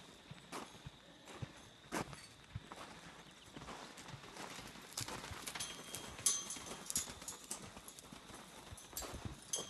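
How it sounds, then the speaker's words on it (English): Hooves of a horse walking clip-clop in a steady, fairly quick rhythm of distinct knocks, faint and close-miked against quiet surroundings. "was one beautiful horse when I got her"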